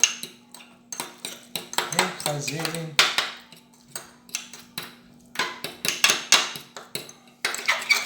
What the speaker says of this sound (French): Ensuite, avec une fourchette, nous allons écraser